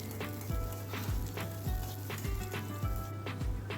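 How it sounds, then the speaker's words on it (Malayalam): Sliced onions frying in oil in a pan for beef curry: a steady low sizzle with periodic scraping stir strokes at a regular pace, close and fairly quiet, no speech. "ഇനി ഇതിലേക്ക് ഞാൻ 3 ഉള്ളി മുറിച്ച് വെച്ചിരുന്നു, അത് ഇതിലേക്ക് ഇട്ട് കൊടുക്കാം. നല്ലൊന്ന് മൂക്കട്ടെ."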